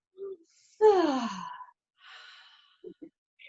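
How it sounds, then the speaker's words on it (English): A deep breath taken during a kids' yoga class: a voiced, sighing exhale that slides down in pitch, then a softer breathy sound and a couple of small clicks in otherwise quiet surroundings. "Take a good deep breath."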